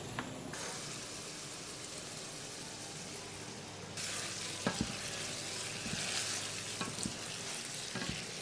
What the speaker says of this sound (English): And now we continue browning the meat until the liquid has evaporated.